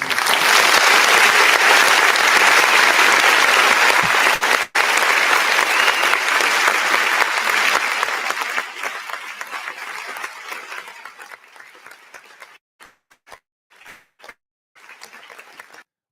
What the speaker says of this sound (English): give a round of applause for Dr. Sheena Gordine